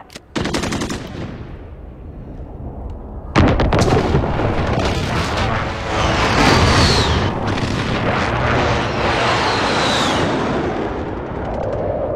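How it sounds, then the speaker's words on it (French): Enemy precision airstrike in a war video game: a sharp blast opens, then after a short lull a sustained barrage of loud explosions and rapid gunfire rumbles on without pause. "Frappe de précision ennemi à couvert."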